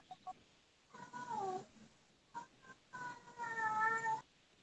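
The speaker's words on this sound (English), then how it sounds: "I can hear the cat." A cat meowing indoors, a few short faint calls followed by two longer drawn-out meows, fairly distant and quiet with no talk over them.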